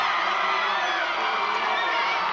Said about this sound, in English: The crowd erupts after the timeout.